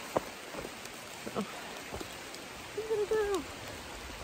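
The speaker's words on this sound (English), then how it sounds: "then it started actually raining and not just sprinkling a little." Rain patters steadily on a cliffside forest path during a hike, a soft constant wash with a few louder drops, while a person speaks briefly over it.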